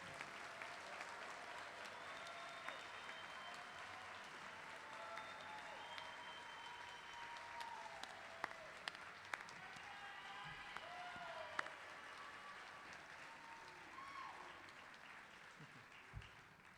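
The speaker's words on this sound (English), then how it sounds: "Let's have one more round of applause for the graduating class of 2021" A crowd applauds the graduating class at a college commencement, with sustained, distant clapping that stays even throughout and a few sharper claps standing out.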